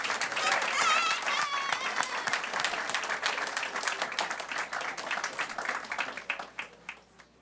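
Sustained audience applause for a group of students at a school board meeting, dense and steady near the start and gradually thinning over several seconds, with faint voices mixed in.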